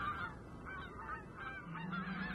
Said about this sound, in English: he heard a sound of whirring wings, and up in the air he saw a flock of birds flying high